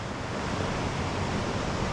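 Rushing water from Vickery Creek waterfall on a Georgia hiking trail gives a steady, broadband roar heard close and constant with no talk over it.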